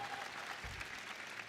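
Audience applause at the Google I/O keynote, a steady, faint patter of many hands clapping from a distance, continuous throughout.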